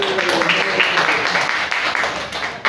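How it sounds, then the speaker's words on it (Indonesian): Classroom applause from students during a microteaching lesson, a brief burst of scattered clapping with voices murmuring underneath, fairly close and moderately loud. "kasih tepuk tangan dulu"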